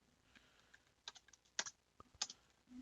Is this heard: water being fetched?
no